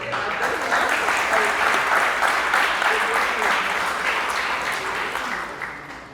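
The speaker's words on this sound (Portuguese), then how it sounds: "Vamos dar um aplauso a Jesus." Church congregation applauding, a steady dense wash of clapping that holds at full strength for several seconds before easing slightly toward the end, with faint voices mixed underneath.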